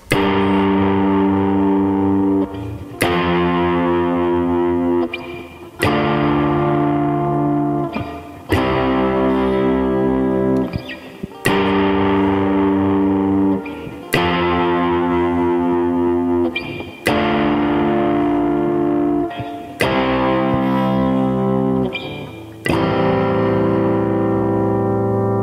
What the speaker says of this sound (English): the song starts out with this intro, and I'll play the chords to it